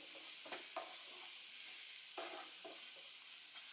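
A jaggery and grated coconut mixture sautéing in a pan, faint steady sizzle with soft, intermittent scraping stirs, quiet and close.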